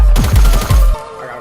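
A quick burst of rapid gunfire in the video game Fortnite, with three or four loud booming shots within a second. A ringing tail follows and fades away.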